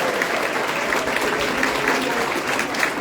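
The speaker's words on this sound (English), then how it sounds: "One last big round of applause for all our nominees this evening." Big round of applause for award nominees at a tech awards evening, a full, steady burst of crowd clapping that stays loud and even for about three seconds.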